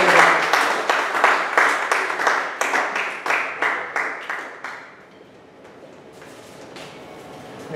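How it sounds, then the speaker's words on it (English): Steady applause from an audience at a Toastmasters club meeting, dense rhythmic clapping that fades out after about five seconds into quiet room tone. "Please clap like anything."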